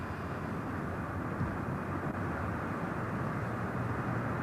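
A British Airways jet's engines roar in a steady, dense, continuous drone as the aircraft is cleared for takeoff, loud and unbroken with no voices over it.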